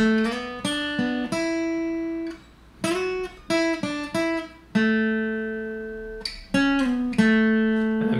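A clean acoustic guitar plays the short melodic intro riff of a song, plucked single notes ringing and decaying, with a brief pause partway through.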